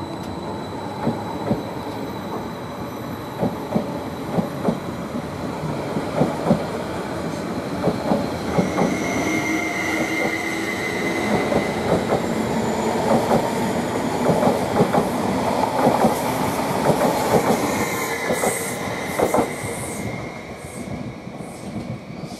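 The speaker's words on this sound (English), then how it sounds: "Now the 12:55 service from London Liverpool Street to Norwich is now just departing." A London Liverpool Street to Norwich passenger train departs Manningtree station, rumbling and clattering steadily over the rails with wheel squeals and rising rolling noise, heard from the platform without talk.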